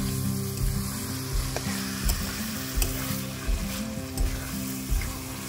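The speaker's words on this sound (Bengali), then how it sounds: "কষা তো হয়ে আসছে, আর কিছুক্ষণ আমি নাড়াচাড়া করব" Mutton for a home-style Bengali curry sizzles steadily in a pan as it is stirred, with a regular scrape of the spoon every second or so under the constant frying hiss. No one speaks.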